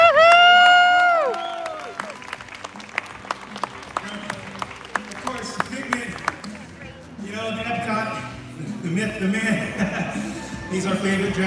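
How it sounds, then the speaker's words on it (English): An audience applauds and cheers at the close of a live art show at Epcot, with a steady patter of clapping and crowd noise running under a performer's speech throughout. "Thanks for cheering me on."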